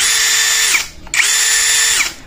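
An Ingco 20V cordless impact drill motor whirs loudly in two bursts with a short pause between, each a high steady whine that spins up and winds down.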